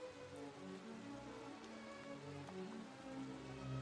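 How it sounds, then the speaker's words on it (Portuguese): Heavy rain pours down steadily in a story sound effect, a dense, even wash of falling water with no voices, loud and continuous throughout. "Caiu uma chuva tão forte que derrubou parte do monte"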